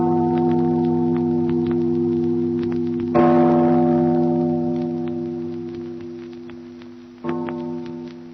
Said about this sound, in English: listen to the bell. It rings in spite of her.